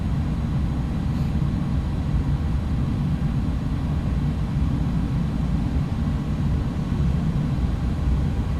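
Thrust reversers roaring on an iniBuilds A300 BelugaST landing in X-Plane 11, a loud, steady low rumble of jet engines decelerating on the runway, continuous and dense without a break.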